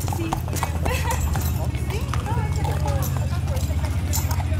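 Hooves of a large, calm horse clip-clop in a steady rhythm, close and clear, while people talk and chatter over them and the horse briefly whinnies.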